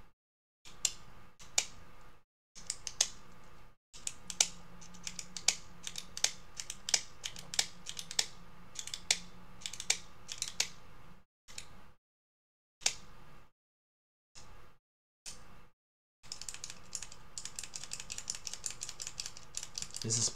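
Rapid, repeated sharp clicks of a pen being clicked close by, coming in bursts separated by short silences, with faint talk in places.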